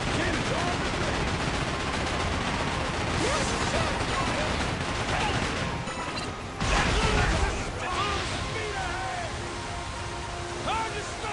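Naval cannon fire and creaking ship mechanisms in Like a Dragon: Pirate Yakuza in Hawaii, a sustained loud clatter of shots and booms with a heavier burst midway and game voices calling out.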